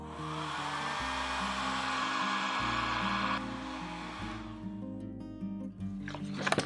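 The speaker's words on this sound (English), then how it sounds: "That hair dryer is really hot" A hair dryer blows steadily and loudly at close range while drying paint on a piece of artwork, a continuous roar that cuts out near the end.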